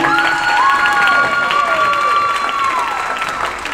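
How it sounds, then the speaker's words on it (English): Audience applauding and cheering at a middle school winter guard and band performance, a steady broadband clatter of clapping with some shouts, while a whistling tone rises and sweeps through the middle. "How about another round of applause for Julian and for Adam?"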